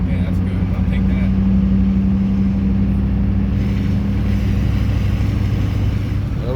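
A Duramax truck fitted with an Allison five-speed transmission drives down a street, its engine droning steadily and fairly loud from inside the cab while people talk over it.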